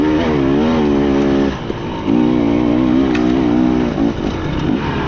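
A KTM 300 XCW two-stroke dirt bike engine revs loud and close, its pitch rising and falling through several throttle blips with a brief dip midway.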